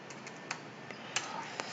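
Light tapping on a computer keyboard while a search query is entered, quiet and irregular, with a few sharper keystrokes spread over a short stretch.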